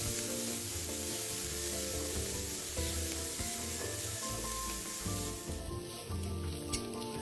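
Chinese sausage, dried shrimp and minced garlic stir-fried together in a pan, giving a steady close sizzle with scraping stirring strokes throughout and no talking.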